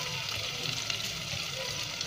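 Onions fry in a pan with crushed red chili and ground coriander for a tori palak sabzi, giving a soft, steady sizzle throughout with no talking.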